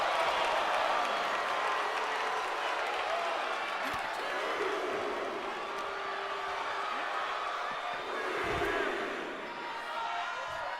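A wrestling crowd at a Nagata show cheering and clapping in a dense, steady roar, with a commentator's voice faintly under it and some thumps from the ring.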